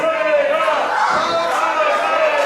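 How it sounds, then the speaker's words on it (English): A wrestling crowd chanting at a live show, a dense, loud, rhythmic mass of voices that fills the short stretch without a break. "Is the crowd chanting for Isaiah?"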